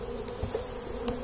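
Honey bees shaken into a bin and scooped out for varroa mite testing, giving a steady close buzzing hum with faint soft knocks from the scooping.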